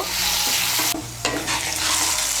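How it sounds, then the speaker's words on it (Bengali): Potato pieces fry loudly in oil with salt and turmeric, a close, dense sizzle that briefly drops away for a moment while being stirred before surging back. "নুন আর হলুদের গুঁড়োটাকে মিশিয়ে নিয়ে আলুটাকে লাল করে ভেজে নেব।"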